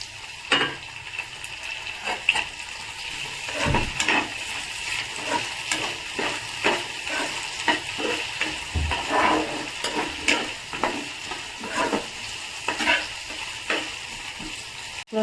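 Tomatoes fry in a pan with a steady sizzle, stirred now and then with scraping, clicking strokes of a utensil, close and moderately loud with no one talking.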